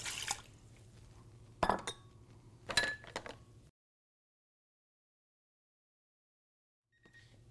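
Ingredients go into a pot of tom yum soup: tomato sauce, crushed tomatoes, tofu and veggie broth, with two close clinks and wet splashes over a low hum, followed by silence and a faint final sound.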